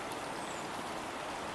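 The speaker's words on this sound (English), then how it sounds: "And now it's not really pouring, but it is definitely raining." Steady rain falling outdoors in Seattle, a dense, even hiss with no breaks and no voices.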